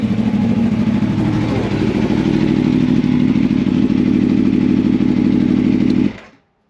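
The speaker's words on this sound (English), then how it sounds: "Started the bike just then" A loud, close Aprilia Tuono 1100 V4 Factory motorcycle engine with a Mivv SR-1 aftermarket exhaust, deep throaty rumble holding steady for several seconds before cutting off abruptly.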